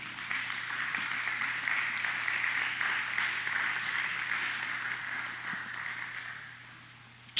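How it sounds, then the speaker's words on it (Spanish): Sustained applause from a church congregation at a Sunday service, a steady broad wash of clapping held for several seconds before tapering and ending with a sudden loud burst at the close. "Denle un fuerte aplauso al Rey."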